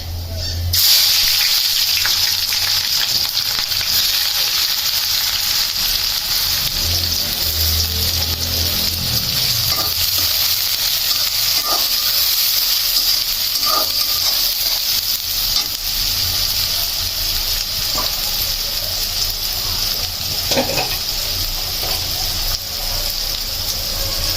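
Onions hit hot oil with whole cinnamon and bay leaves, giving a loud, continuous sizzle and crackle. A few faint clinks of a utensil sound against the pan beneath the frying.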